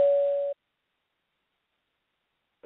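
A single debate timing bell rings once with a clear sustained tone lasting about half a second, then silence and a faint click near the end.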